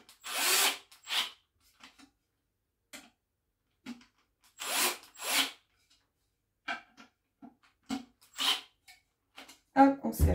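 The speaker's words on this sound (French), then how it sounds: "j'ai juste à visser dans les trous" A power screwdriver drives screws into flat-pack furniture in several short whirring bursts, each a second or so long, separated by quiet gaps with a few faint knocks and clicks.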